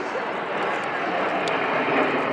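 An aerobatic team aircraft roars overhead at an airshow, a loud continuous broadband drone that holds steady throughout, with a brief sharp higher-pitched note near the middle.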